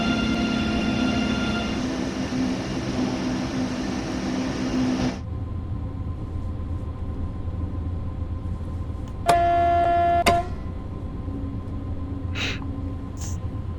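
A train in Train Sim World 3 slows under braking, its steady rolling rumble and a high whining tone cutting off abruptly, then a low hum continues with a brief chime-like signal tone and faint clicks.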